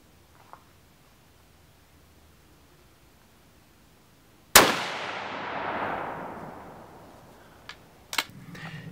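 A single sharp, loud crack from a Savage Axis .308 rifle fitted with a 3-12x50 scope, fired while sighting in at a range, followed by a long decaying echo and a couple of small clicks afterward.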